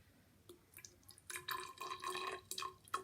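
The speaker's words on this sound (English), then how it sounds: "I'm going to pour it just really gently over the top" Water poured gently over sand in a simple science demonstration, a soft trickle with dripping and bubbling that builds into a fuller, fizzing gurgle, close and quiet.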